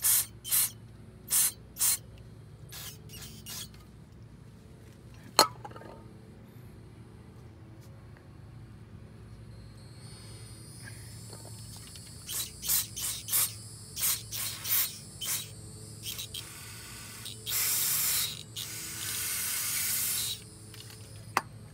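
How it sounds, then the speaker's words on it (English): Brake cleaner sprays onto a car's brake caliper to lift paint marks: a series of short, sharp aerosol hisses, a few early, then a denser run of bursts and one longer spray near the end, close up with no talk. "You can just get some that brake cleaner, spray it, and it literally comes off."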